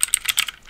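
Close, crisp keystrokes on a computer keyboard while entering a line into a Spring Boot properties file, about half a dozen quick clicks in uneven bursts, then a brief pause before a final tap.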